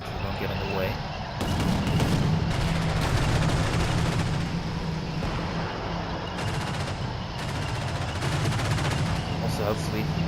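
Gunfire and fire support in Combat Mission: Shock Force 2, a military wargame assault on a village: dense, continuous rattling gunfire with heavier artillery-like thumps under it, steady and fairly loud throughout.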